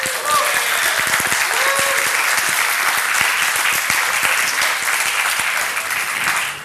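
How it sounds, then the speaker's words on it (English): Loud, continuous clapping from an audience at the DebConf19 opening ceremony, sustained for several seconds with a few sharper individual claps near the start. "Let's give an applause to the team"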